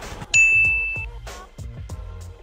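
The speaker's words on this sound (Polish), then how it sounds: "Musi być subskrypcja i jest taki dzwonek." A bright notification bell rings once with a clear, sustained ding that fades slowly, followed by a few softer tapping knocks in an otherwise quiet room.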